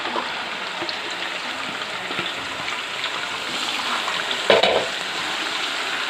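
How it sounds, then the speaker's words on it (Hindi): Finely chopped onions hitting hot oil in a kadai give a steady, dense sizzle and crackle that runs throughout, with a brief louder burst of spattering near the end. "अब इस प्याज को हम इस ऑयल में डाल देंगे"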